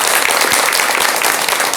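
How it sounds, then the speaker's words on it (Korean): Audience applause filling a hall during a live Buddhist Q&A broadcast, a dense, steady wash of many hands clapping loudly and continuously with no talking over it. "여러분 박수 한번 보내주시기 바랍니다."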